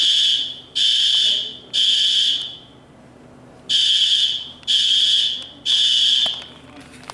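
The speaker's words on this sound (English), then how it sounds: "Somebody just pulled the fire alarm." A hotel fire alarm blares in loud, evenly spaced high-pitched bursts, about six pulses with short gaps, close and harsh.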